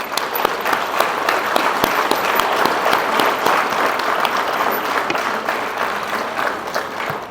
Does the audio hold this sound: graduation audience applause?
yes